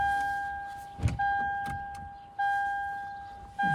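An ignition key is turned in a 2010-2017 Toyota Tundra fitted with a remote start kit, giving a soft mechanical click followed by steady, repeating electronic chime tones inside the cab.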